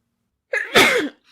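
A single sharp human sneeze, close and loud, with a short breathy intake before the burst and silence around it.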